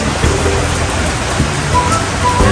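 At Villa Escudero plantation resort in Tiaong, Quezon, heavy rain falls with a dense, steady hiss and pattering on surfaces, close and constant, with no talking.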